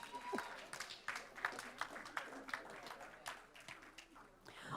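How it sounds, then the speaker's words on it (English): Scattered applause at a school board meeting honoring a student, with distinct claps standing out over a murmur of voices in a large room. "Let's give him a big round of applause."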